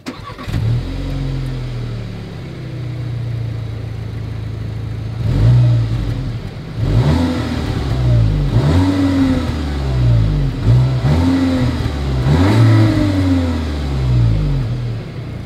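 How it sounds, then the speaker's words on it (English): A 2021 Volkswagen Arteon's exhaust is revved repeatedly: a steady idle, then a series of about six rising-and-falling throttle blips, loud and close, with no voices. "As always, here is that exhaust clip."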